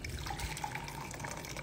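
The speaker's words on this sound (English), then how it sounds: "First thing you're going to do is pour some hot water" Hot water is poured into a bowl to poach an egg, a soft, faint, brief trickling and splashing.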